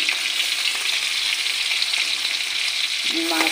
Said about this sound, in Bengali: মাছগুলো লাল করে ভাজা করে নেব